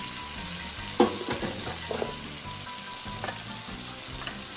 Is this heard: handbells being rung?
no